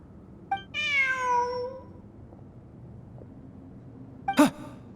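A cat meows in the video game Genshin Impact: one drawn-out, clear meow followed a few seconds later by a shorter, sharper second meow, close and alone over a faint game ambience.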